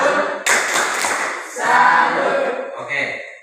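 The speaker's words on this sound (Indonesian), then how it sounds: "Sekali lagi kita memberikan tepuk tangan salut." Students in a physics classroom applaud a presenting group, a burst of clapping rising suddenly and continuing with mixed voices before tapering, then a second swell.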